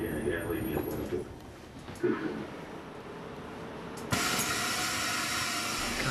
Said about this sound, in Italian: Ora il convoglio manovrerà per portarsi sul binario per il ritorno.